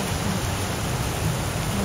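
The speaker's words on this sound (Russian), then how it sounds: "И начинает литься просто такой дождь." Heavy rain pours outdoors as a dense, loud, continuous hiss of drops striking surfaces, steady throughout with no voices.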